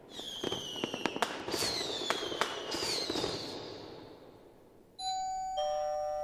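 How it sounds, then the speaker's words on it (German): Doorbell rings in a radio play, a clear two-tone ding-dong sounding near the end, right after a stretch of crackling fireworks bangs that fade away. "Ein paar Tage später läutet es an der Türe."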